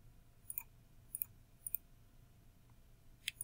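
A computer mouse gives several quiet, sharp clicks, mostly in close pairs, spaced over a few seconds against a faint hum of room noise.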